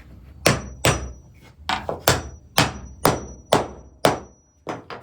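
Wooden 3/4-inch dowels are hammered into tight holes in a CNC spoilboard, giving about ten sharp, evenly spaced knocks close up over a quiet background.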